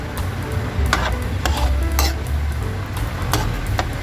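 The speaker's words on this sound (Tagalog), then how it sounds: "pwede na natin haluin yung ating ginisang munggo" Ginisang munggo, sautéed mung beans with bitter gourd, is stirred in a pan, giving a steady close sizzle broken by scattered spoon scrapes and clinks against the pan.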